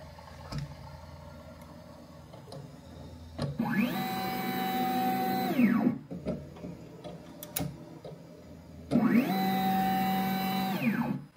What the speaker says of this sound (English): you just want to press this auto focus feature and it is going to do an auto focus